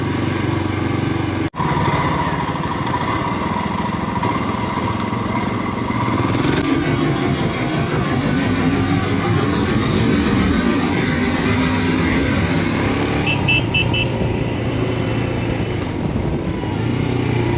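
A Royal Enfield Himalayan motorcycle accelerates hard to overtake on a group ride in the Euganean Hills, its single-cylinder engine a loud, steady, close drone that holds for a long stretch under wind rush, with no talk.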